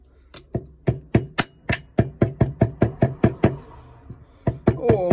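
A small hammer taps repeatedly on a plug held in a bench vise, sounding as a quick, even series of sharp, close metallic knocks, about fifteen strikes in a row.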